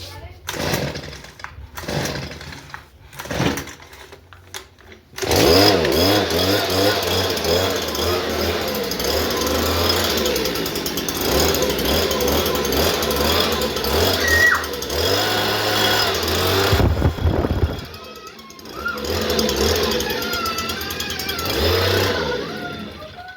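A Stihl SH 56 C leaf blower, set on choke and primed, gives a few short pull-start tugs before its small two-stroke engine catches and roars loudly up close. It cuts out briefly, then runs again.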